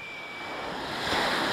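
Sea waves wash in a broad hiss that builds louder toward the end of a brief moment, with a faint high whine from a small blue H100 remote-control boat running on the water.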